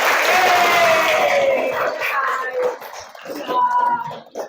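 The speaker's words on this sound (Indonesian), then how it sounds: "Kita tepuk tangan dulu deh untuk kita semua." Students in a classroom clap together, a burst of applause mixed with children's voices that fades and stutters toward the end.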